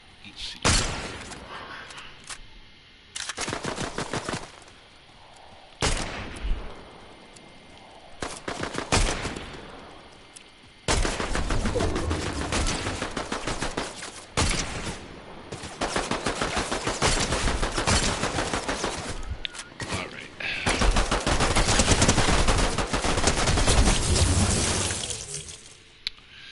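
Gunfire in a video game: repeated bursts of heavy, loud shooting broken by short pauses, growing into long sustained volleys toward the end.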